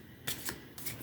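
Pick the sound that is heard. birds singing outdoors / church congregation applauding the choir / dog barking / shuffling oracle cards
shuffling oracle cards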